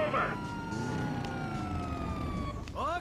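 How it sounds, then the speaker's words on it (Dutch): A police car siren in the video game Grand Theft Auto V wails through a steady rising and falling tone over game engine and traffic noise, ending in a quicker yelp burst, fairly loud throughout. "niet elke auto aan de kant schiet als je de sirenes aan hebt"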